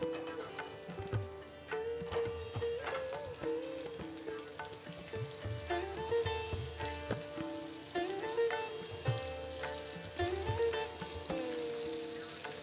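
Stuffed okra (bharli bhendi) frying in oil in a pan, a steady crackling sizzle with soft scraping and clinks from a utensil, while background music plays throughout.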